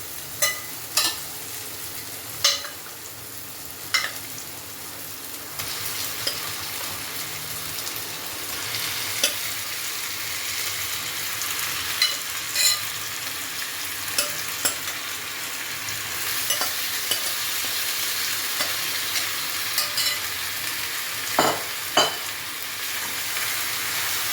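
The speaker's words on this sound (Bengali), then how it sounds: "দেখুন বন্ধুরা টমেটোটাও ভাজা হয়ে গেছে এবার এর মধ্যে আমি মাংসটা তুলে দেবো" Chicken pieces frying and being stirred among fried tomatoes for a chicken and potato curry, a continuous close sizzle broken by repeated sharp scrapes and knocks of a spatula against the pan.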